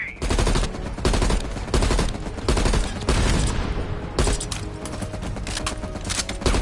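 Loud bursts of machine gun fire in Call of Duty Black Ops Cold War, rapid rattling volleys repeating in several clusters with short gaps between them.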